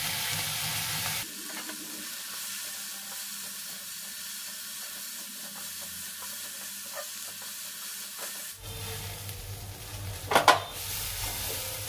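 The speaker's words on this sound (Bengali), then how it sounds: "এই যে ভাজা হচ্ছে" Tomatoes with turmeric and salt sizzling in a pan over a medium flame, a steady close hiss of frying with occasional scraping stirs and a couple of sharper clatters near the end.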